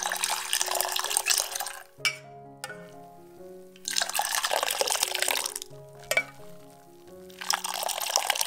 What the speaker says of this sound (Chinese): 把茶汤过滤出来。